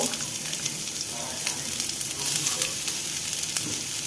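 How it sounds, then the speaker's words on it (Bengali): Onion sizzles in hot oil alongside lightly fried garlic, a dense steady hiss with faint scraping stirs, heard up close and uninterrupted. "পেঁয়াজটাকে হালকা করে একটু ভেজে নেব"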